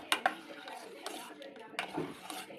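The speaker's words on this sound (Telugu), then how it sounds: "ఉండలు కట్టకుండా కలుపు ఇట్లా కలుపుతూనే ఉండాలి" Metal spoon stirring a milk, flour and jaggery mixture in a pot, a few clinks and scrapes against the vessel with talking over it.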